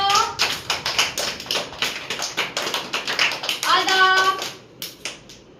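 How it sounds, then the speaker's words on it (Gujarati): A group of children clapping hands in a classroom, a run of quick, sharp claps with a steady rhythm, close and loud, pausing briefly near the end. "તાળી પાડો."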